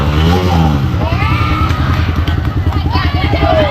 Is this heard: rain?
no